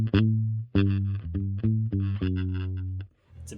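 A bass guitar runs through Headrush Gigboard effects with a distorted, chorused tone, playing a few loud plucked notes with gaps and clangy string noise, and then falls quiet.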